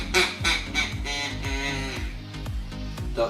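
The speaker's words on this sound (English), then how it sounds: "Duck call, Uncle Si, this is fun." Rapid rhythmic quacks blown on a handheld duck call, loud and close, repeating in a steady pulsing series of raspy honks for several seconds without any talking.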